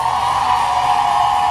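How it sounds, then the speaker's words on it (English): A studio audience cheers and whoops for the reality show cast at a live reunion taping, a loud, steady crowd roar with no letup. "Audience, please give our cast a huge round of applause."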